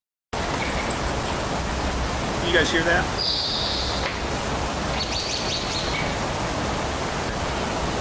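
Faint bird chirps and short tweets rise over a steady broadband outdoor hiss on a woodland trail, with a person speaking briefly.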